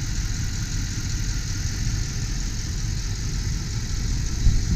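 1993 Jeep Grand Cherokee Grand Wagoneer Limited with the 5.2 liter engine idling, a steady low rumble with even mechanical hum, close and loud throughout with no talk.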